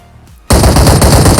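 Rapid automatic gunfire from a mobile shooter game starts abruptly after a brief quiet moment and rattles on loud and continuous, alone without any voices.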